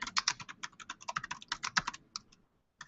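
Rapid typing on a computer keyboard while entering a short message, a dense run of close, crisp key clicks for about two seconds that thins to a few last taps and then silence.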